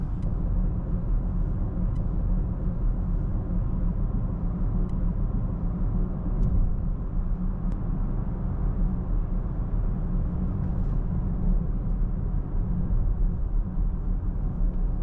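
Steady low rumble of road and tire noise inside a Huawei M9 cabin while coasting off throttle, a constant broadband drone with no voices and no engine surges.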